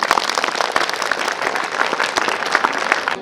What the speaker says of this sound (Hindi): और इन सर के लिए एक बार फिर से जोरदार तालियां